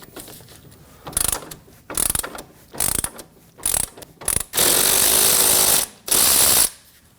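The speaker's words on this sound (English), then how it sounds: "go ahead and use a 21mm wrench and then a 10mm socket on top." A ratchet wrench clicks in short rapid bursts while loosening the outer tie rod nut on a 2015-2024 Ford Edge steering rack, then runs in two long continuous ratcheting stretches, close and loud, with no talk.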